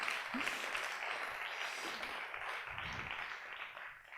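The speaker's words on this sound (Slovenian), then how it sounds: "Jaz pa mislim, da si aplavz zasluži tudi Tanja Kavran" Applause from the audience at a Slovenian marketing conference, a fairly quiet, steady patter of clapping from a hall full of people with a few louder individual claps near the start.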